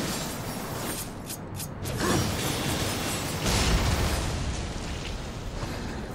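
A mechanical beholder eye creature in Darksiders Warmastered Edition grinds and creaks steadily, with ratcheting clicks and deep rumbling booms that swell midway and keep going without pause.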